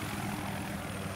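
Helicopter rotor and engine drone from the video game Battlefield 3, a steady dense whir filling the clip without pause, close and constant with no voices over it.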